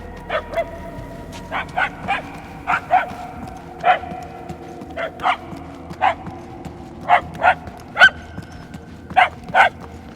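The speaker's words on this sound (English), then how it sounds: "The barks are getting louder at least." Dog barks echo through the Knowhere area in Marvel's Guardians of the Galaxy game, a string of short barks and yips at an irregular pace, moderately distant over a low ambient rumble, with no talking.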